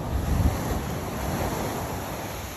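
Ocean surf washing onto the beach at a Cancún resort, a steady rushing roar with a louder surge near the start, mixed with wind buffeting the microphone.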